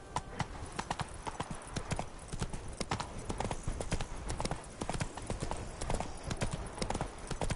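Roach, the horse from The Witcher 3, trots with a rapid, even clip-clop of hooves, loud and close for the whole stretch, with a faint background bed beneath.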